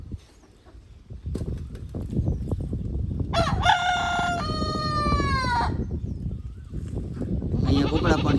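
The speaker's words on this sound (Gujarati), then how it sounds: "અહીંયા કુકડા પણ છે" A rooster crows loudly and close by at a friend's farm, one long drawn-out cock-a-doodle-doo rising and then falling away, with goats and general farmyard noise going on around it.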